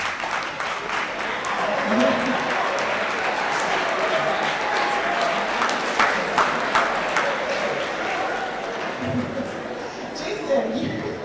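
Audience applause at a school event, sustained dense clapping from a large crowd holding steady for several seconds, with scattered voices and a speaker faintly heard beneath it.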